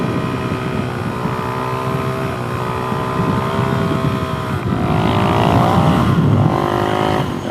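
A motorcycle engine roars loud and close during a wheelie, holding a steady harmonic drone that climbs in pitch and grows stronger toward the end.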